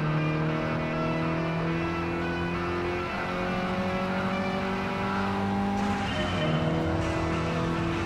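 Race cars lapping Blue Moon Bay Speedway infield B reverse in Gran Turismo Sport, an Alpine among them, with steady loud engine drones whose pitch climbs and falls through gear changes and a brief tire squeal near the end.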